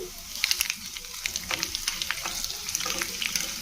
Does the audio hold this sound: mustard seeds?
yes